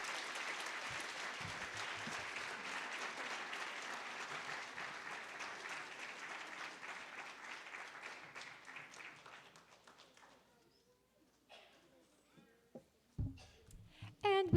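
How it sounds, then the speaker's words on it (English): An audience of families applauds teachers at a primary school second-grade musical, dense steady clapping that gradually fades to silence, followed by a few scattered knocks and handling noises. "we need to give a nice round of applause to Ms. Ventresca, Mrs. Bartholomew, and Mrs."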